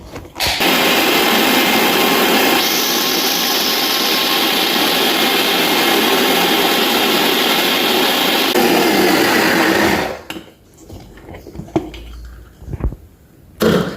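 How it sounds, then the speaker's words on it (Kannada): A kitchen mixer grinder whirs loud and steady for about ten seconds, grinding a wet spice paste with curry leaves and water for a Mangalore-style jackfruit dish, then cuts out to faint clatter and small knocks. "ಇನ್ನೊಮ್ಮೆ ಗ್ರೈಂಡ್ ಮಾಡುವ."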